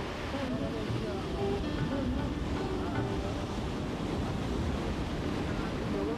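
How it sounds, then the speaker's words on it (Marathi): Sea waves on the beach at Midgaon in Sindhudurg make a steady, even roar of surf and wind with no distinct breaks. "या इथल्या परिसरात तासनतास समुद्राचा गाज ऐकत बसलं तर खराखुरा आनंद मिळतो"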